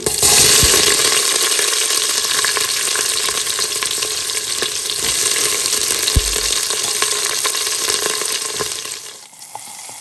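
Onions frying in oil with black pepper, dried chili, curry leaves and asafoetida make a loud, steady close-up sizzle with stirring scrapes, tapering off near the end.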